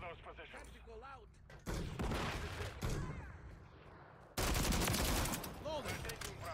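Gunfire in a Call of Duty Modern Warfare III multiplayer match on PS5, bursts of shots and distant volleys rising and falling under radio-style game voice lines, growing louder toward the end.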